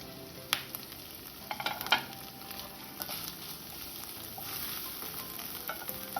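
Chopped carrots and beans stir-fried for egg chicken fried rice. A soft, steady sizzle carries several quick scraping and clinking strokes of the spatula against the pan, quieter later.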